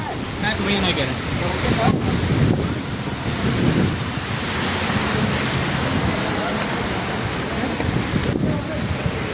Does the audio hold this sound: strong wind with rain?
yes